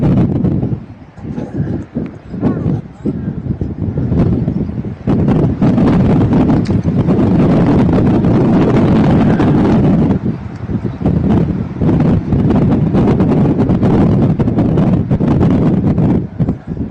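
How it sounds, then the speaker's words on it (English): Wind buffeting a microphone outdoors at a high school baseball game, a loud, heavy rumbling roar that swells and persists almost without a break. "This wind is just about to get the best of us here."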